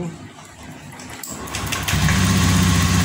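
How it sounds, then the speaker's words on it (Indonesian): A car with a newly replaced fuel pump cranks and starts, then settles into a loud, steady idle that grows fuller and holds even to the end. "di sini untuk stasioner ataupun langsam, nah stabil, tidak berebet"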